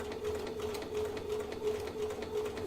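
A sewing machine runs steadily, stitching down beside a seam on a holiday table runner, a continuous close mechanical hum with a faint rhythmic patter and no voices.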